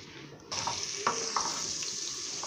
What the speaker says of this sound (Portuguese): vou começar a fritar esse alho